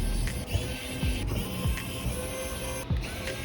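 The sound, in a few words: electric screwdriver opening a Monsgeek M1 keyboard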